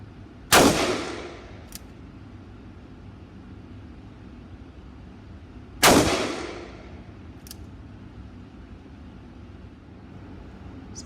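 Two loud, sharp gunshots from a Grizzly .45 Colt +P revolver firing 265-grain gas-checked rounds, spaced about five seconds apart, each cracking outdoors and trailing off in a short echo, with no talking.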